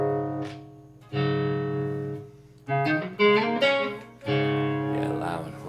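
An electric guitar played on the clean channel of a Peavey 5150 II amplifier, sounding out chords and single notes that ring and decay, fairly loud and close, with no talking.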